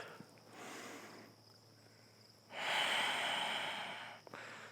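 Slow yoga breaths come through the nose, a long steady inhale swelling loudly after a softer breath, close and alone during a core-strengthening vinyasa flow.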